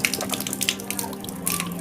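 Water runs and splashes steadily near a tap or basin during wudu, the ritual washing before prayer, heard briefly on its own with no talking.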